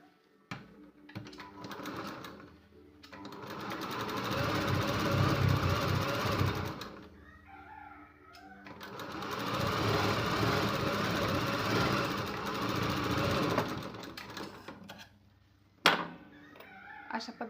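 A sewing machine stitches a blouse cross strip in two sustained runs of rapid whirring, separated by a short pause and a few clicks, fairly close and steady, with no talk.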